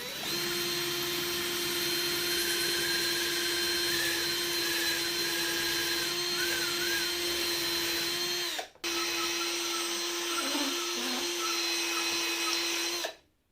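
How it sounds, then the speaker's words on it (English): A power drill grinding steadily into a motorcycle throttle body on a 2023 Honda CB125F, a loud continuous whine held for about nine seconds, a brief pause, then running on again close to the mic. "So I've been working away with my drill."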